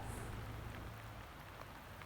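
Steady rain pours down in the Rocky Mountain National Park wilderness, a dense even wash of drops hitting surfaces with no voices, holding constant throughout.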